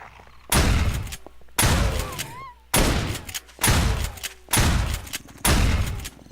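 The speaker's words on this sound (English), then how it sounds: "for God's sake, it's a shotgun." Shotgun fired six times in 7 Days To Die, each blast a loud close boom with a short decaying tail, spaced roughly a second apart.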